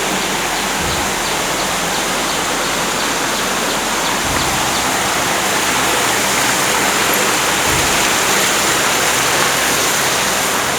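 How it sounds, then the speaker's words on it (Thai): Continuous rushing of a flowing stream, a steady broadband wash like a small cascade, loud and unbroken throughout, at Ban Pang Hai, Doi Saket, Chiang Mai, Thailand. "ถ้าได้ยินเสียงน้ ำไหลแบบนี้ก็ ชื่นใจแล้วครับ"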